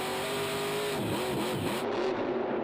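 A Monster Jam truck, Son-uva Digger, roars steadily at a freestyle event in Cowboys Stadium, Arlington, its engine holding a sustained revving drone with a brief rise near the end amid crowd ambience.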